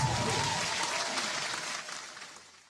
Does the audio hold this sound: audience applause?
yes